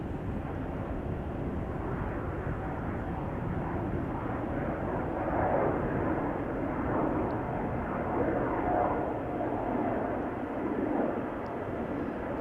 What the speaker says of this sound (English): we're missing out on a 787-10 that just took off to Nairobi